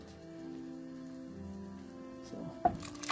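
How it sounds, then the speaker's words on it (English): Ginger liquid is poured into water for a Jamaican sorrel drink, a soft trickling pour that builds into a brief splashing burst near the end. "we're gonna be pouring that ginger in this"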